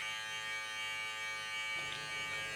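An electric hair clipper cutting a taper fade on the side of the head, a steady close buzzing hum with a slight shift in tone partway through and a brief click at the end.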